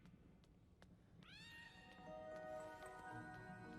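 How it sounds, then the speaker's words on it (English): A cat meows in the video game Iris.Fall, one clear drawn-out call with a rising then level tone over a faint, quiet background. "I'm following this cat too"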